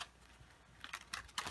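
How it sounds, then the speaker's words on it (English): Brief crisp riffling clicks of tarot cards being shuffled, soft and close, building into a few quick bursts. "I just want to give it a really good mix, really good shuffle here."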